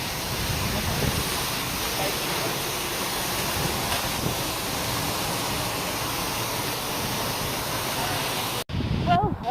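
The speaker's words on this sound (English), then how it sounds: "I'm literally behind the waterfall." A waterfall in Iceland roars from directly behind the falling water, a dense, loud, constant wash of noise that fills the whole moment, with a brief sharp dropout near the end.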